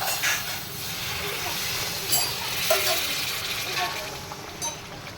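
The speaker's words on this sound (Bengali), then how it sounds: "এবার আমি দিয়ে দেবো জল।" Water hits hot frying spice paste and sizzles with a broad, steady hiss and a few crackles, while a voice talks over it.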